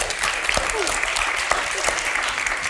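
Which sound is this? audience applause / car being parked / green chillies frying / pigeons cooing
audience applause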